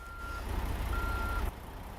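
A reversing truck in the Euro Truck Simulator 2 game, new DAF sounds, gives steady repeating high backup beeps over a low engine rumble that cuts down abruptly near the end.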